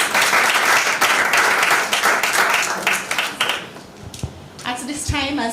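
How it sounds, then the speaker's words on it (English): Loud, dense applause for three judges at a high school debating competition, sustained clapping from a full room that thins and fades, followed by a voice speaking at the end. "Might we please have a round of applause for our three esteemed judges."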